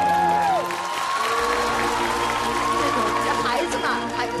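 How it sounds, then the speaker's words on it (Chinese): A studio audience at a Chinese TV stage show bursts into sustained applause and cheering for contestant Jin Xiaoyu, the clapping steady and full throughout, with voices and tonal sounds mixed in. "掌声送给金小鱼"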